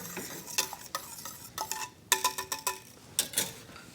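A spoon stirs yogurt into warm milk made from powdered milk, giving a quick series of close scraping and clinking strokes against the pot in an irregular rhythm, with no talk.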